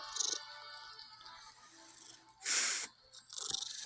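A few short, faint cat calls from the Hogwarts Mystery video game, separated by pauses, with one louder breathy burst in the middle.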